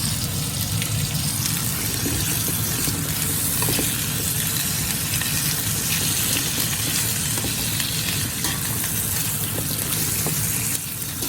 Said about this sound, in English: Saute for about 2 to 3 minutes.